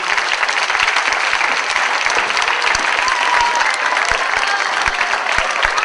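A festival crowd applauds to welcome a singer onto the stage, loud continuous clapping with crisp individual hand claps standing out in the thick, steady wash.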